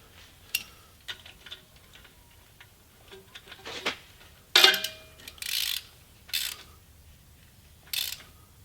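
A 10mm socket ratchet tightens a bolt into a bracket while installing a 2.5-inch lift kit on a 2015 Jeep Grand Cherokee, giving a few short, close bursts of clicking with quiet pauses between them.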